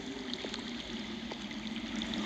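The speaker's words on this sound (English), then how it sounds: "I hear water. From underground." Underground water flowing in a Game of Thrones video game, a faint steady trickling and gurgling murmur with low rumble beneath.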